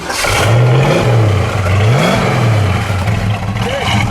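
A 1968 Shelby Mustang GT500 KR engine revs up and down several times, a deep throaty exhaust rumble rising and falling in waves.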